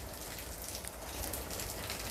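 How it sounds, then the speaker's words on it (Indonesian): Rain falls in Jakarta, a steady, even hiss of drops hitting surfaces at moderate loudness, continuous with no voices. "Suasana Jakarta hari ini hujan sob"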